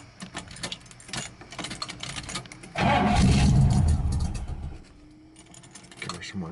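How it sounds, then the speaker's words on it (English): Close up, a car engine starts for brake bleeding: light clicks and rattles first, then a surge as it fires and revs briefly before settling to a quieter idle. "So now, start up the car."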